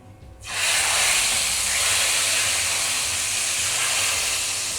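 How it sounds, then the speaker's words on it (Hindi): A sudden, loud hiss erupts and holds steady as hot tempering hits moong dal, a continuous close-up sizzle with no voices. "अब हम ये तड़का दाल में लगाएंगे।"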